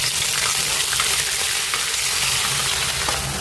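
Onion paste hits hot oil with cumin seeds in a pan, a loud, steady sizzle and crackle filling the whole stretch without a break.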